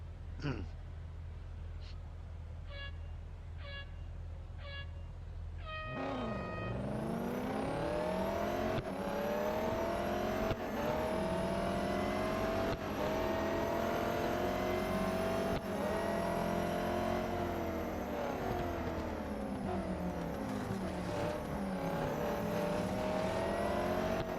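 Race cars in an eight-player race in the mobile game Real Racing 3 roar continuously, engines revving and shifting gears after a brief quiet menu with soft tones, loud and sustained throughout.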